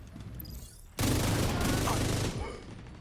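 A dense burst of video game gunfire, loud and continuous for over a second, with rapid repeated shots layered over background game noise and a voice talking.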